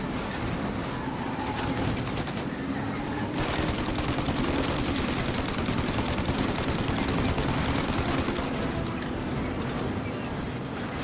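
Continuous heavy gunfire rattles nonstop in a Mafia car chase, shooting at a car windshield over the roar of a driving vehicle, loud and dense throughout with no clear gaps.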